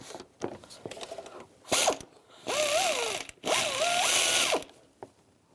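Ratchet wrench tightening bolts on a 2006-2011 Cadillac DTS engine during a knock sensor replacement, heard as two sustained bursts of rapid clicking with a few brief clicks before and after.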